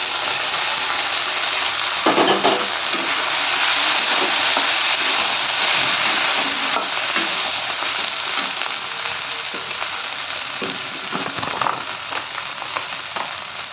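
Soybeans frying and being stirred in a pan for soybean chilli, a steady loud sizzle broken by scraping stirs and small crackles.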